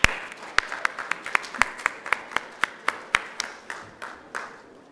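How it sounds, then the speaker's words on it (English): An audience at a 2018 tech conference claps to welcome a keynote speaker, one person's crisp, evenly paced claps standing out near and loud, with scattered softer clapping around them, fading out over the last second. "With a huge round of applause, ladies and gentlemen, I now invite Mr."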